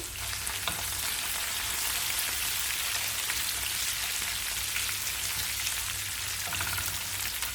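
Chopped banana stem sautés in a hot pan, a steady bright sizzle and crackle running unbroken throughout with no one talking.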